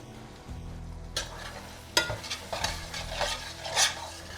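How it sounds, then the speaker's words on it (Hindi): Pumpkin curry sizzles and fries in ghee while a utensil stirs and scrapes the pan in repeated strokes, close and fairly quiet, with no talk. "1 से 2 टेबलस्पून घी।"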